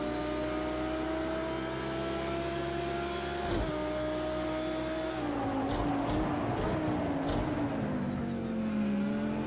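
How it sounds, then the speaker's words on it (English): A GT3 race car in Project Cars 2 downshifts hard into first gear, the engine note dropping then flaring as it engine-brakes, with a steady high whine and a quick blip from the cockpit. "Down to first there, just to try and slow myself down with a bit of engine braking"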